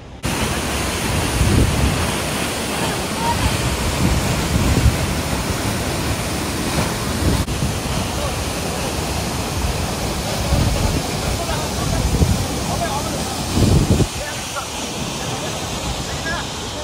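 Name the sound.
Changey Falls waterfall in Kolakham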